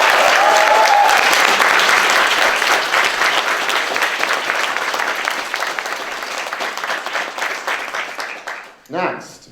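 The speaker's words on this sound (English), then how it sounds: "So let's give them a round of applause" Audience applause at a Science Slam event in Helsinki, a dense sustained burst of clapping from a crowd that tapers off gradually before a brief voice at the end.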